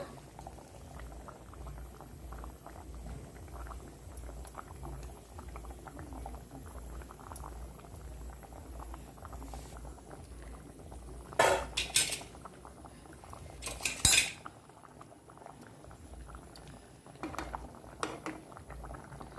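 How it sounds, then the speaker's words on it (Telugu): Nellore-style fish pulusu simmers in a pot covered with a plate as a lid, giving a faint, steady bubbling hiss, broken by a few sharp clinks of metal utensils and dishes near the middle. "ప్లేట్ మూత పెట్టుకుని మరిగించుకుందామండి పులుసుని"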